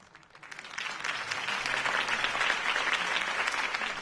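Steady applause from a sizeable crowd in a Batman video game, rising quickly after a brief quiet start and holding strong, dense clapping throughout.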